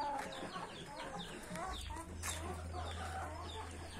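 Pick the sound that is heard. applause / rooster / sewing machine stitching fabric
rooster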